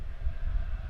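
A train rolling along nearby tracks next to a house, a brief, continuous low rumble with soft, windy texture, steady and moderately loud with no voices.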